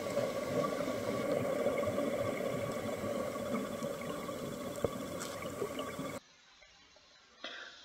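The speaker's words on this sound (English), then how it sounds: "you will be able to see lots of bubbles produced from vent" Underwater recording at a shallow hydrothermal vent beside a coral reef: a dense, steady bubbling hiss from gas streams for about six seconds, then it drops sharply to a faint, quiet background.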